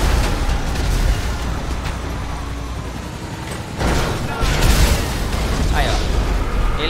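RPG rocket strikes on an armored vehicle in GTA 5, loud booming blasts over a continuous roar of game noise, with a sharp burst near the middle and another heavy impact shortly after.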